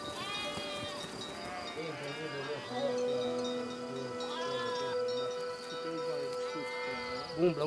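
A flock of about 300 sheep bleats over one another in an overlapping, continuous chorus, some close and loud, others farther off, in Transylvania.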